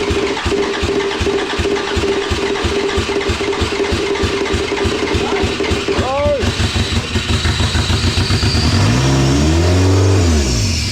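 A racing car engine in endurance race prep is revved and flooded, a rough idling churn breaking into sharp rising revs near the end, close and loud, with people talking over it.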